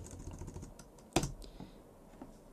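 Fingers type a command on a computer keyboard, a quiet run of small clicks with one sharper keystroke in the middle, close and without talking.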